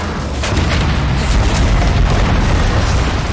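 Heavy naval cannon fire from sailing warships in a battle in Empire: Total War, dense overlapping booms and rumbling blasts that merge into a continuous, loud barrage.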